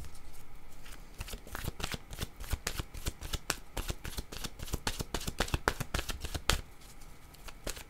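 Oracle cards are shuffled by hand at close range, giving soft papery riffles and sharp slaps in an irregular rhythm that runs almost the whole time, then slows near the end.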